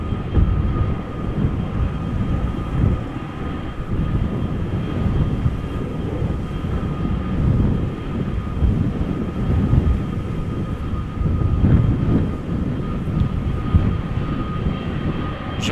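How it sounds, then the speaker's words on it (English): An Airbus A340 taxis toward takeoff at Amsterdam Schiphol Airport, a loud, continuous low engine rumble with a faint steady whine, fluctuating gently and heard without voices. "looking at the taxiway it has turned onto, the A340 will take off from center"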